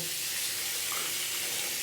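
Warm tap water runs steadily into a sink while a shaving brush is rinsed clean of leftover shaving cream, a close, even hiss with no talking.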